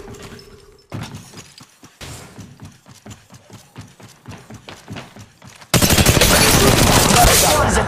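Rapid bursts of gunfire in the mobile battle royale game Apex Legends Mobile, starting as a sharp, steady rattle of shots and ending in dense, loud continuous fire.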